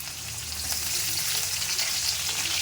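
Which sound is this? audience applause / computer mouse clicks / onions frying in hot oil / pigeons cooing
onions frying in hot oil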